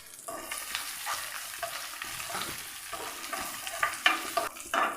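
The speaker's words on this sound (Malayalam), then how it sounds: "എല്ലാം കൂടെ നമുക്കൊന്ന് റോസ്റ്റ് ചെയ്തെടുക്കാം." Cashews and raisins roast in ghee in a pan, a steady close sizzle with scraping stir strokes that grow louder and more frequent toward the end.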